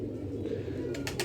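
Blue-eyed pigeons, light-bodied bun-tail birds, coo softly amid a steady background, with a few sharper bird calls near the end.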